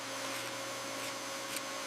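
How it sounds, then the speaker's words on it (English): A vacuum cleaner runs steadily with a constant whine and broad hiss while a 70-year-old buried house is being cleared during plaster work. No one speaks over the unbroken drone. "aim the vacuum here"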